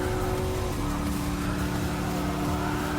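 A Dodge Charger SRT Hellcat engine drones steadily at high revs in Gran Turismo Sport during a custom race on track, heard from the interior view as a constant loud hum with no speech.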